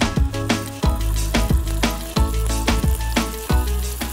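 Chicken shashlik skewers are laid one by one into hot oil and fry with a loud, crackling sizzle, with sharp bursts recurring every half second or so, close by and alone.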